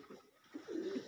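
Domestic pigeons settled in their nests inside a dovecote give soft, low cooing, quiet at first and then swelling into a steady murmur of coos from nearby birds.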